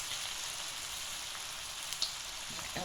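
Jackfruit kebabs fry in hot oil as a soft, even hiss, faint and steady with an occasional small pop, like light rain. No one talks over it.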